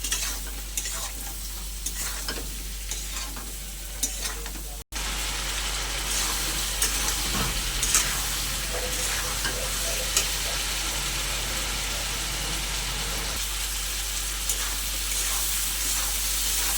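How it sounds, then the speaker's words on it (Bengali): Vegetable stalks and potatoes frying in a spice paste that has released its oil, a loud steady sizzle with frequent close stirring scrapes, briefly cut by a short dropout, no voices. "এবার আমি দিয়ে দেবো কেটে ধুয়ে পরিষ্কার করে রাখা ডাঁটা আর আলু একটু ভালো করে কষে নেব।"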